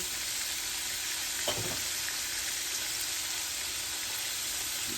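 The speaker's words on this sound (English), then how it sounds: "I'm going to turn these on and let them cook, heat up real slow. So that bacon grease can get in them." Onions sizzle steadily in bacon grease in a pan, a constant close frying hiss with a brief stir or tap midway.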